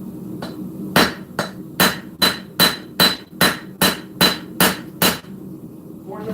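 A straight peen hammer forges knife steel, upsetting the shoulders of a full integral blade, with ten sharp, evenly paced ringing blows close by, each striking loud and clear.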